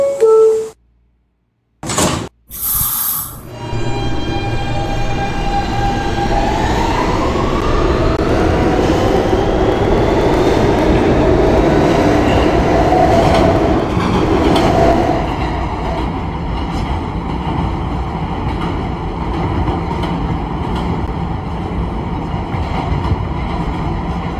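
An R160B Siemens E subway train in the Roblox game PTA Subway, Halson Terminal to Union Turnpike, with a few door chimes and clunks at first, then a steady rising motor whine and rumble as it runs.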